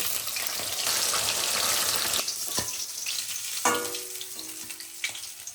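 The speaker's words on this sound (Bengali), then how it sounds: "সব মাছগুলো এবার ভেজে নেব।" Bashpata fish, lightly salted, sizzle steadily in hot oil in a pan, with brief clinks and spatters from turning the pieces over near the end.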